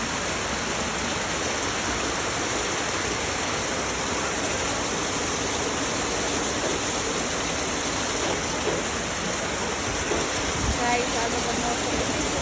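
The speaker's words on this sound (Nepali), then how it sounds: "ठुलो कता पानी पऱ्यो नि ठुलो पानी परेछ" Heavy rain pours outside in a dense, continuous broadband roar that holds steady throughout, with no clear voices over it.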